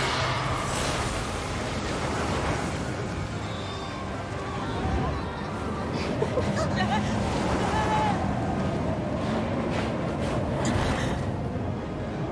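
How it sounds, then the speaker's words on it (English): Steady rushing wind in the video game Genshin Impact fills the scene continuously, with a person talking over the constant blustery noise. "It be heckin' windy."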